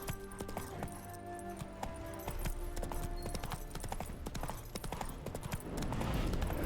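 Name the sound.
horse hooves clip-clopping, video game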